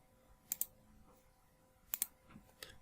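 A computer mouse clicked in quick double pairs, sharp and close in a quiet room, two paired clicks then a single lighter one.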